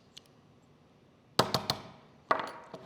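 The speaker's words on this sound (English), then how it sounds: "Let's grab a hammer and see how the bump works." A hammer tapping a bump key in a plain 5-pin Schlage pin tumbler lock: a faint tick, then a cluster of three sharp metallic knocks and a later pair, close and otherwise quiet.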